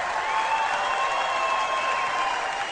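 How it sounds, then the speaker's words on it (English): A NASCAR grandstand crowd applauds in a steady, even wash of clapping and cheering that holds at a constant level throughout, with no voices standing out. "NASCAR crowd"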